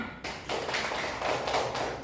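Children clapping their hands during a classroom game, a few sharp bursts of claps in quick succession with short gaps between, close and fairly loud.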